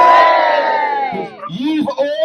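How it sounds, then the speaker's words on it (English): Crowd of people at a Viking-themed Feed the Rat river event in Halford giving a loud collective cheer and whoop, strong at first and then fading into scattered shouts and voices. "Give yourself a big cheer!"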